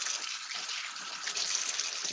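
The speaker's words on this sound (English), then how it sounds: "I'm also going to rinse my hands over there on that side." Hot water runs steadily from a kitchen tap as hands are rinsed beneath it, a continuous close gushing splash with no talk.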